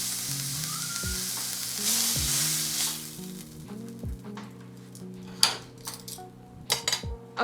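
Chicken seasoned with salt, pepper and sage sizzles steadily in a pan, with a few clinks of utensils against the cookware and no talking.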